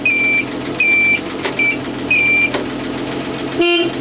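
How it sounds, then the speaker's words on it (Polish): A bus horn honks in several short, loud bursts. The last blast is lower-pitched, and a steady engine hum runs underneath throughout. "Klaksonik tutaj."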